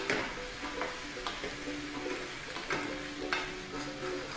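Tomatoes and peppers frying in a pan while being stirred, a soft sizzle under light scraping and shuffling strokes, fairly quiet and uneven throughout.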